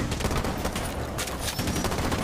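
Rapid gunfire from a wallbang shot in a video game, a dense, loud burst of repeated shots running continuously without pause, with no voices over it.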